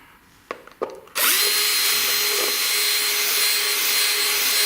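A power drill starts with a loud steady whine after a few faint knocks and runs continuously, close up.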